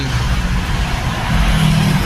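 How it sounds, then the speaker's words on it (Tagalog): Dense road traffic in Meycauayan: a steady, loud low rumble of idling and creeping cars and trucks fills the clip, with an engine swelling a little louder near the end. "Grabing traffic mga idol."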